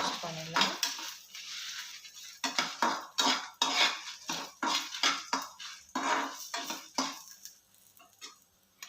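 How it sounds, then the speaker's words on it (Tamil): Dry red chillies roast in a pan, stirred with a metal spoon that scrapes and clinks repeatedly against the pan in close, uneven strokes, with a faint sizzle beneath. "ஸோ இது ஒரு 2 minutes நல்லா ரோஸ்ட் பண்ணிடலாம்"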